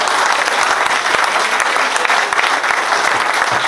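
Audience applause at a 2017 agricultural fair (comice) in Cuon, France, a dense, steady clapping from a sizeable crowd filling the whole stretch at close range.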